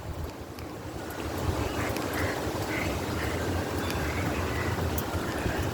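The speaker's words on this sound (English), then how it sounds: "we're getting some wind gusts now." Gusty wind from an approaching hurricane roars steadily and broadly into the microphone, with buffeting low rumble that swells and holds throughout, no voices.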